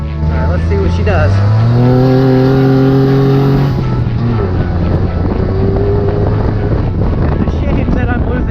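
A Mitsubishi Mirage with a swapped engine accelerates off road, its engine note rising loudly in pitch over several seconds, then dropping and continuing to roar steadily with rough wind and road noise.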